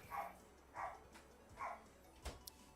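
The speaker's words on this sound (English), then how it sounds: "I have dogs barking in the background" Dogs bark in the background, three soft, evenly spaced bursts at a distance, with a brief thump near the end.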